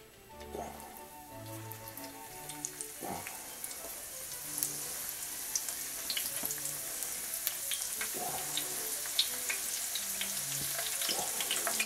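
Thin-dough triangular samosas frying in hot oil, a steady close sizzle with crackling pops that grows slightly denser over time, occasional soft clinks and low bumps, no speech.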